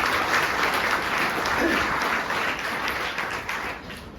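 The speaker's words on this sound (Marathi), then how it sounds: "म्हणून जोरदार त्यांच्यासाठी आपण सर्वांनी टाळ्या वाजवू" Loud, sustained applause from an audience at a college Teachers' Day gathering, honouring the department's professors. Dense, steady clapping fills the whole stretch, fading only slightly toward the end.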